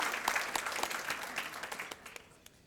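An audience at a State of the State event in Torrance, California claps for the hardworking staff, a moderately loud patter of individual hand claps that gradually thins and fades toward the end.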